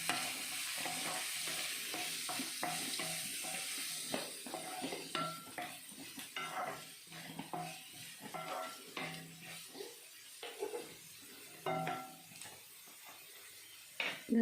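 Roasted vermicelli upma is stirred in a pan, with a quiet, rhythmic series of spatula scrapes and light taps against the pan over a faint background sizzle.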